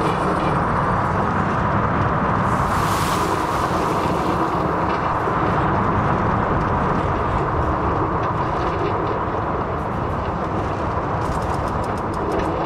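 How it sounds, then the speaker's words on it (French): A kiddie roller coaster ride in the theme-park game Planet Coaster, heard as a steady rolling rumble of train wheels on track with whooshing air, continuous and fairly loud throughout with no talk. "c'est un kiddie coaster, mais c'est déjà mieux qu'un truc qui tourne juste en rond"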